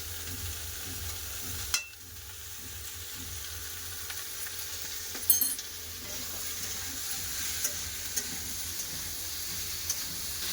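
Potato, ridge gourd and onion with salt and turmeric sauté quietly in a pan, giving a soft, continuous frying hiss broken by occasional clicks of stirring.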